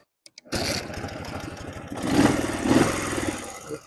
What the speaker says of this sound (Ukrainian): давайте заведемо і послухаємо, як же працює цей мотоцикл